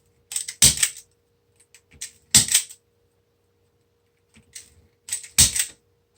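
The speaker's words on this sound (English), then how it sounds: "this just snugs up your tie wrap and also cuts it at the same time" Tie wrap tool snugging and cutting cable ties on a daisy wreath, three sharp close snaps spaced a couple of seconds apart, each with small clicks and rustles around it, no talk.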